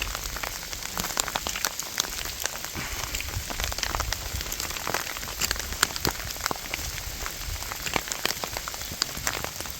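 Hail patters densely and steadily on the ground and surroundings along a Himalayan trekking trail, a continuous close crackle of many small impacts with no voices.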